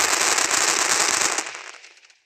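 Gunfire in the mobile battle game Free Fire, a rapid crackling burst of shots that runs loud for over a second, then trails off into a fading tail.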